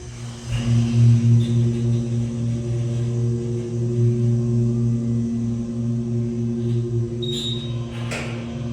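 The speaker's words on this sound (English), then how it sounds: "Let's listen to the motor sound from the back of the cab." An Otis Hydrofit hydraulic elevator at Hershey Gardens in Hershey, PA, heard from inside the hospital-sized cab: a loud, steady motor hum starts up and runs on, with a few faint clicks near the end.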